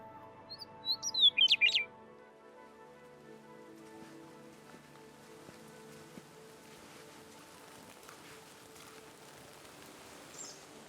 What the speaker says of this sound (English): American redstart singing farther back in the bush.